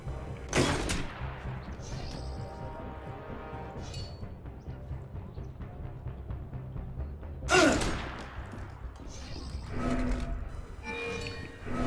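Gunfire in the video game Assassin's Creed Unity: a loud opening shot, then a dense run of rattling, rapid reports, another sharp burst near the middle and more shots toward the end, with a busy battle din underneath.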